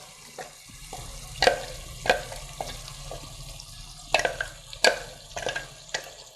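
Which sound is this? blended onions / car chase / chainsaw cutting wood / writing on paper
blended onions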